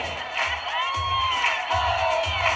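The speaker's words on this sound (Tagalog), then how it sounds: "Palakpak na may kasamang hiyaw!" Wedding audience cheering and clapping, a steady crowd roar with whoops and a held shout rising over it, close and fairly loud throughout.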